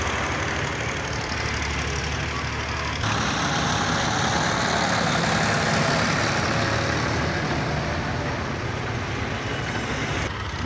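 A truck backs up at an excavator site where soil is being loaded and dumped, its engine rumbling loudly and steadily throughout with no break or pause.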